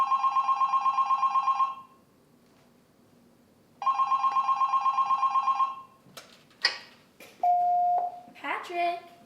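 A telephone rings in two repeated bursts of rapid electronic trills, fairly loud and close, followed by clicks and a brief voice after the ringing stops.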